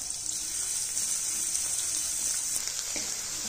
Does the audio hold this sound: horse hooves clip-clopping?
no